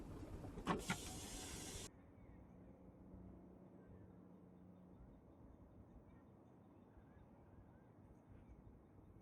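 A car's electric power window winds down at night in the cold, a brief steady motor whine lasting under two seconds that cuts off abruptly, followed by quiet idling car ambience.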